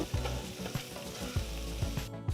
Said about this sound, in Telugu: ఇప్పుడు సన్నగా తరిగిన 1 ఉల్లిపాయ, మధ్యలోకి కట్ చేసుకున్న 6 పచ్చిమిరపకాయలు వేసి కలపాలి.